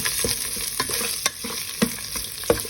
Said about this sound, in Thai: ตอนนี้เราก็ต้องมาผัด ให้หอมก่อนนะคะ